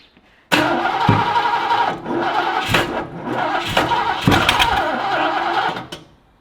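A Sandman car engine cranks and fires up for the first time after a rebuild, with retarded timing, running in loud uneven bursts and revs over several seconds before cutting off.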